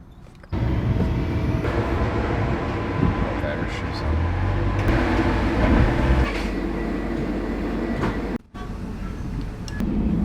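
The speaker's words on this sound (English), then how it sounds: "I am now on the train, so the Eurotunnel to Calais." Steady rumble of a Eurotunnel train running through the Channel Tunnel to Calais, a dense low roar with a brief dropout near the end.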